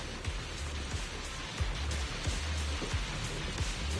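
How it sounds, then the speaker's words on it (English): Heavy rain hisses continuously with gusting wind in a video game, Zenless Zone Zero, punctuated by soft low thumps, all steady and enveloping. "The wind and rain are picking up."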